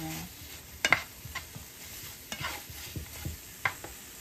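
Sugar caramelizing in a pan over medium heat for halo-halo, stirred with a spoon: faint scraping strokes and light clinks against the pan, intermittent and close over a quiet background hiss.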